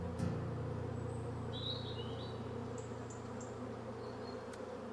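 Steady bee buzzing in the video game Wytchwood, a continuous low drone running throughout, with faint bird chirps and tweets scattered above it.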